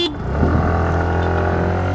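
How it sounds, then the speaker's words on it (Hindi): A scooter horn gives a loud, sustained buzzing honk up close, one steady blast held for nearly the whole stretch without clear breaks, with no talk. "Start with 3 horns."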